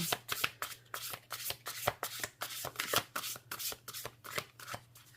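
Large, thick oracle cards from a Crystal Spirits Oracle deck are shuffled by hand at an unhurried pace, giving a series of quiet, close riffling slaps in an uneven rhythm.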